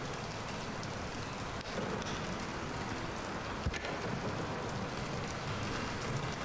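Steady rain falls outdoors in the video game Bendy and the Dark Revival, an even, constant hiss of drops that continues throughout with no talking over it.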